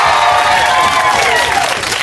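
A television studio audience claps and cheers continuously, a dense wash of applause at steady loudness throughout with crowd voices mixed in.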